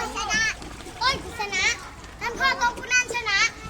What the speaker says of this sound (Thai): ส่วนเด็กๆน้อยๆก็เล่นน้ำอยู่มองมองตื้น ๆเสียงกระเจ้าเจ้าเจ้าเจ้าอยู่